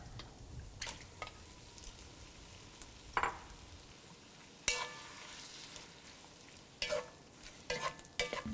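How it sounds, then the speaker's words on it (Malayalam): Shrimp with pepper is stir-fried in a pan at a faint, low level: a soft background sizzle with sparse scrapes and clacks of a utensil, growing busier toward the end, and no talk. "ഇനി ഇതിലോട്ട് നമ്മൾ ക്ലീൻ ചെയ്ത് വെച്ചിരിക്കുന്ന ഷ്രിംപ് ആഡ് ചെയ്ത് കൊടുക്കാം."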